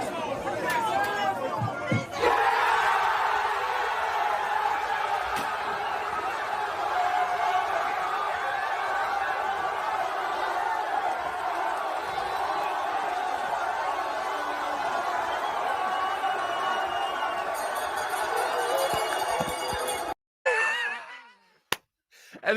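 A huge crowd of football fans at the final where Italy beat England keeps up a loud, continuous roar and babble of voices for about twenty seconds, then cuts off abruptly into brief handling noise.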